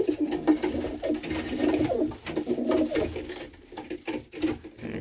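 Racing pigeons in a breeding loft give soft, repeated throaty coos, close and overlapping in a steady rolling rhythm, with no talking.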